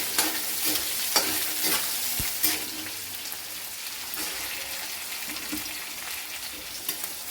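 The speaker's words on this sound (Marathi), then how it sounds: "हिरवी मिरची छान परतून घ्यायची आहे." Green chilies with garlic being stirred and sautéed in a pan while making pithla, a soft, steady sizzle with occasional scraping stir strokes, fairly quiet and close.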